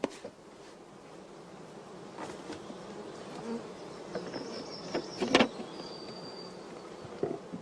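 Honeybees buzz continuously around a hive as a shaken swarm is hived, a soft droning hum with a few louder individual bees passing close now and then.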